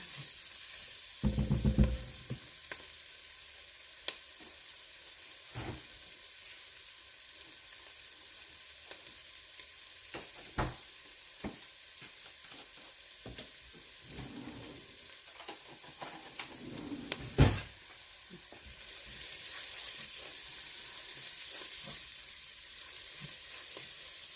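Onions sautéing in a pan at the start of Southern collard greens, a soft continuous sizzle broken by scattered utensil clicks and stirring scrapes, fairly faint throughout.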